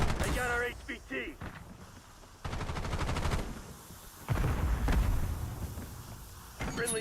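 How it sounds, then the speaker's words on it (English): Video game firefight with bursts of gunfire in several loud blocks, separated by quieter stretches, mixed with game voices and other effects. "HVT is taking fire."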